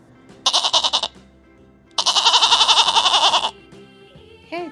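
An electronic goat bleat from a toddler's ABC puzzle board toy, two loud, buzzy, wavering bleats close by, a short one then a longer one, followed by a brief squeaky tone.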